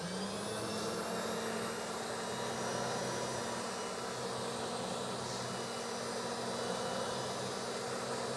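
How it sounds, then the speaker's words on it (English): A pipe threading machine cuts threads on pipe with its dies in a pipefitting shop, giving a steady, loud, continuous motor whine and grinding drone that holds without a break throughout. "once it gets about halfway across the dies, you'll hear the machine bog down."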